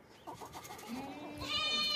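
A plump, healthy two-tooth male goat offered for Eid sacrifice at a livestock market bleats close by, one wavering drawn-out cry that rises into a higher nasal call, over faint background commotion.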